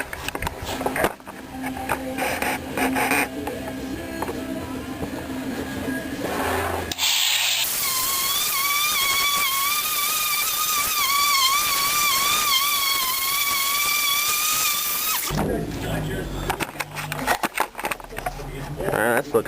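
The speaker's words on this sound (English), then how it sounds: "spots out in here that isn't just quite being touched by the sander" A power sander works over a fiberglass repair, droning steadily with a rising whine in the middle stretch, while a voice talks over the rougher sanding before and after.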